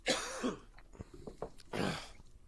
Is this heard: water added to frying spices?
no